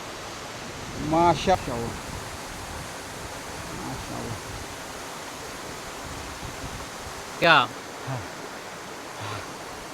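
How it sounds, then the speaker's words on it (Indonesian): Steady broadband rush of the Bayang Sani waterfall at its third tier, a continuous roar heard at moderate distance while a couple of people speak briefly over it. "Akhirnya sana kita sampai di kawasan air terjun Bayangsani tingkat ketiga."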